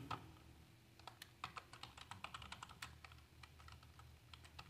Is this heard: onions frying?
no